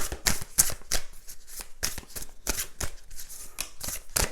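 A thick, colourful tarot deck is shuffled by hand in a series of quick, crisp riffles and slaps, close and fairly quiet, with irregular bursts of card noise.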